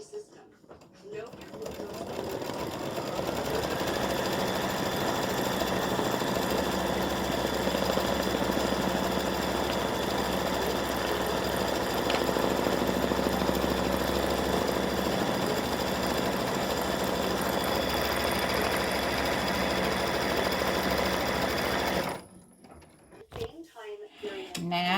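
A sewing machine stitches down an orange appliqué fabric piece for a Thanksgiving gnome, running steadily and close for about twenty seconds before stopping abruptly, with brief soft talk after.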